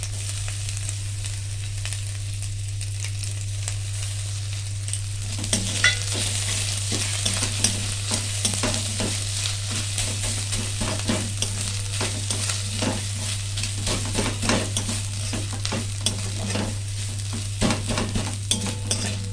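Grated coconut fries in a pan, starting as a quiet hum with a faint sizzle. After about five seconds the stirring begins, bringing a steady crackle and frequent scraping of a spatula, close by, with a constant low electrical hum underneath.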